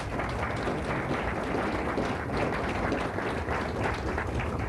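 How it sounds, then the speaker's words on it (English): An audience at a mentalism stage show applauds continuously, a dense, even patter of many hands clapping at moderate loudness throughout. "Give her a nice round of applause."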